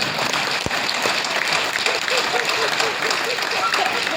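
Audience clapping at a Tamil public speech, a dense, steady wash of many hands filling the whole stretch, with a speaking voice running over it.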